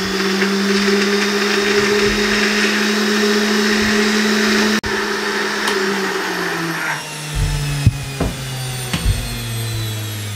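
A blender running at slow speed, churning cream into butter, gives a loud, steady motor whine that holds for several seconds, then drops in pitch as the load shifts, with a few knocks near the end.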